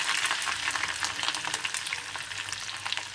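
Crushed ginger, garlic and curry leaves sizzle in hot oil in a kadhai, a close, continuous crackling fry with no voices.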